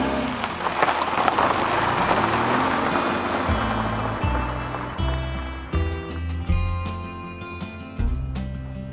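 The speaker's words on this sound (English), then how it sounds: "it is raining" Rain falling outside during a road trip to Knysna, South Africa, a steady close patter with intermittent heavier thumps and drips toward the end.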